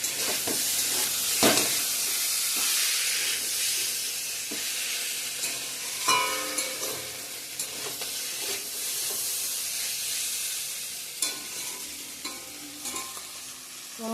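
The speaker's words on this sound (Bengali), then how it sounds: "আমার দুশকুশির ভাজাটা হয়ে গেছে, এখন নামিয়ে নেব।" Dushkushi fish fries in a pan with a continuous soft sizzle and hiss, while occasional clatters and scrapes of a utensil break in throughout.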